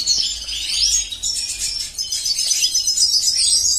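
Goldfinch chick chirping in a breeding setup, a continuous stream of thin, high twittering calls, fairly close and steady throughout.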